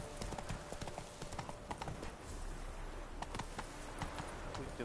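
A horse gallops in The Witcher III video game, its clip-clop hoofbeats coming in a fast, continuous rhythm over game ambience for about five seconds.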